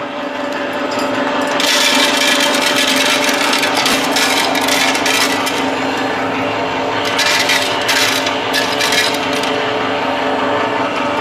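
A small home oil extraction machine pressing sunflower seeds gives a continuous loud grinding, rasping drone with a steady mechanical hum underneath and no speech.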